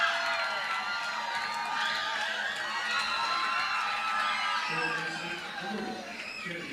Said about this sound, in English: Crowd starting to come back to life.